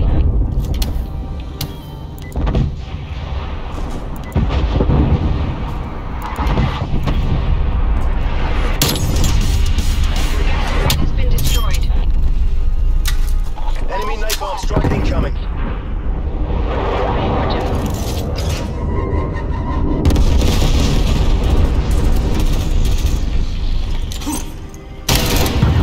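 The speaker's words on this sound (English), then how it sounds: "Artillery standing by." Artillery strike explosions in the Call of Duty Black Ops Cold War multiplayer map Standoff, a loud continuous barrage of booming blasts and rumbling impacts mixed with game noise and gunfire for nearly half a minute.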